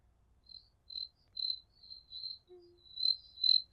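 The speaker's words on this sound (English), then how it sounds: "Yeah. Crickets." Crickets chirping as an inserted sound effect, a series of clean, evenly spaced high chirps in near silence, with no talk over them.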